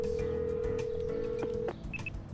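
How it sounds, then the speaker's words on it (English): Phone dialing and ringing in the ACE Academy video game: a steady tone holds for almost two seconds and then cuts off, followed by two short electronic beeps, with no talk over it. "I call him, but the phone rings for a while before it connects."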